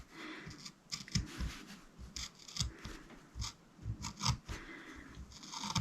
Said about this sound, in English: about every 1/2 inch, I'm going to do a little snip.